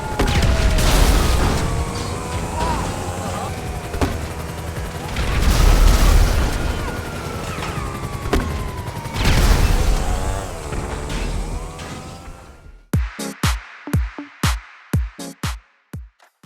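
Explosions from a compact grenade launcher in GTA Online come as three heavy booming bursts amid rumbling game noise, followed by a quick run of sharp, separate gunfire-like bangs near the end, with no voices.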